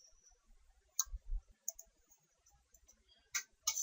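Computer mouse clicks on a desk, quiet and close. A few sharp single clicks are spread out, and a pair comes near the end, with hush between them.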